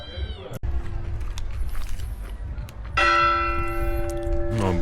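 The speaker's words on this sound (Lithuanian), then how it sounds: "bažnyčios varpai skamba" Church bells ring out in a Turkish town, a loud burst of sustained, overlapping metallic tones entering midway and continuing over a murmur of outdoor street ambience.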